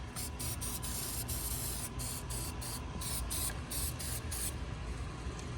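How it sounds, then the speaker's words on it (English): Aerosol spray can hissing onto the underside of a part during 6.0 Powerstroke fuel injector work, a long steady spray with a row of short, rapid bursts, close and loud over low background rumble. "Spray it on the bottom."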